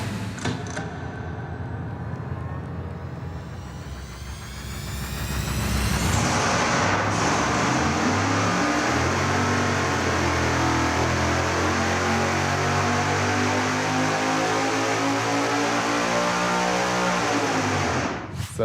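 A supercharged and nitrous-fed big-block Chevy engine on a dyno idles roughly, then rises into a loud, sustained roar as it revs hard and holds at high RPM, cutting off at the end.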